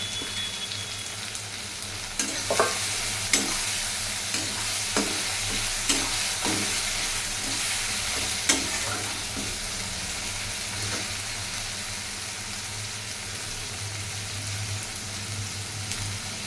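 Ginger-garlic paste sizzles steadily in a hot pan while a spoon stirs it, giving a loud, continuous frying hiss broken by a series of short scraping strokes in the first half.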